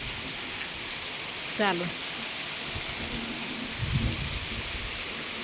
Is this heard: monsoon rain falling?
yes